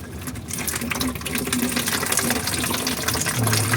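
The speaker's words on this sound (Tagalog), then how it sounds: "Naghalo na yung tubig at langis. Tubig na yung lumabas sa crankcase niya." A continuous, steady gush of water mixed with oil pours out of the crankcase of an overheated 2018 Ford Everest 2.2, running loud and unbroken for several seconds.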